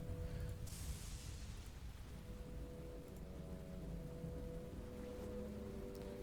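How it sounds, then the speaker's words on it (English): Rain pours onto a rooftop in Neverwinter Nights, a steady hissing wash that stays even and low throughout with a faint low hum underneath. "Rain's coming down."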